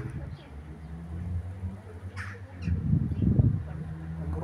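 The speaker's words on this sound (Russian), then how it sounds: "и вороны, и чайки." Crows caw outdoors on a summer day, with a few harsh calls rising over a steady low background hum, fairly distant and not loud.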